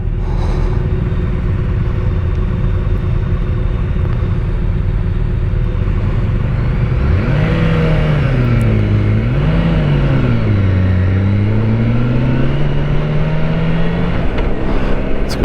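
A 2024 BMW K1600B touring motorcycle engine drones loud and steady while riding, its pitch sliding up and down through gear changes and throttle shifts, with wind rumble throughout and no talk.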